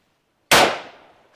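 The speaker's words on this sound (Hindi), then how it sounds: "सामने टारगेट सिंगल शॉट फायर।" A single rifle shot cracks out loud and close at a target on an Assam Rifles training range, its sharp report trailing off into a short echo with no talk.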